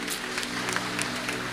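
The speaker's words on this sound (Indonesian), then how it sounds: "kita beri tepuk tangan" A church audience gives a brief round of applause, a dense, even patter of many hands filling the moment, with a faint low hum beneath and no clear speech.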